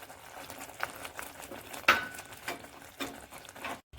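Curry bubbling in a pot on the stove, a soft steady simmer with small pops and patters, fairly quiet and close.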